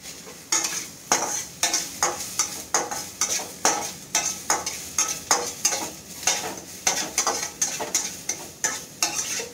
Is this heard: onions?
yes